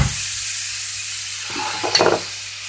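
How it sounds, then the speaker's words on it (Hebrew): Chopped champignon mushroom stems fry with onion in a pan, a steady soft sizzle and hiss running throughout, with a few louder stirring scrapes and spatters near the end. "לוקחים את הרגלי פטריות וקוצצים אותם ממש קצוץ ומוסיפים לבצל וממשיכים בטיגון"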